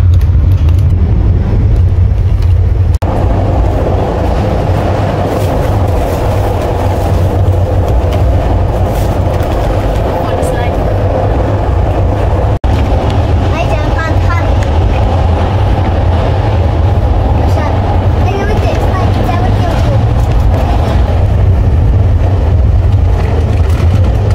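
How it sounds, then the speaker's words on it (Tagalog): A train pulls out of a station in cold weather near Bucharest, a loud, steady low rumble of rolling cars with faint clatter building and continuing throughout. "Paalis na yung train."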